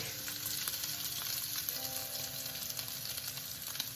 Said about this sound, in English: So the beef is searing.